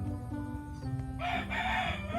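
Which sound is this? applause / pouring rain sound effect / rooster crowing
rooster crowing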